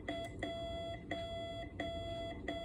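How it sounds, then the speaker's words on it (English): Slow repeated electronic beep tones from a K3NG Morse keyer, evenly spaced Morse dots with a faint hum underneath. "the dots are a lot slower now."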